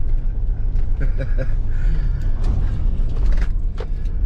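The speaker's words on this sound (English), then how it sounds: "sorry about the wind noise" Steady low roaring rumble of wind buffeting through open car windows, continuous and loud over engine and road noise.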